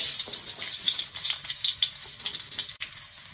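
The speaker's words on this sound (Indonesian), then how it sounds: "Masukkan bawang yang telah dipotong kecil-kecil." Finely chopped garlic and shallots sautéing in hot oil for dim sum filling, producing a bright, crackling close sizzle with popping spatters and occasional stirring, no voices present.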